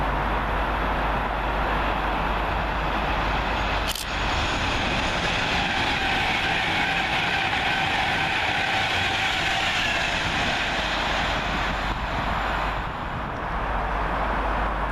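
A Class 390 Pendolino passenger train on an Avanti West Coast service from London Euston to Birmingham New Street runs through Milton Keynes Central station, giving a steady, loud rumble of rolling stock over the whole stretch with a sharp click near the start.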